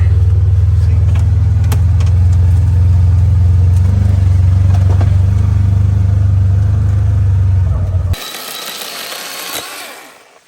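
A car drives across a farm property with a loud, steady low engine rumble. The rumble cuts off abruptly after about eight seconds, leaving quieter rustling at the end.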